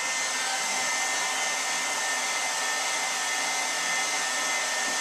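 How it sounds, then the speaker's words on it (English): A heat gun on its high setting roars in a constant, loud airy whoosh while warming the end of plastic hula-hoop tubing, with no speech and no break for the whole stretch. "she's heating up the end with the heat gun on high, and then she goes around the edge"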